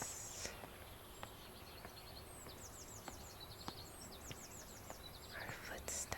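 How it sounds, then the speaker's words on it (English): Birds chirping outdoors in a cozy 19th-century plant-growing puzzle game: faint, distant repeated tweets and trills over a soft ambient bed, with occasional light ticks and a faint hushed voice. "And the birds chirping outside."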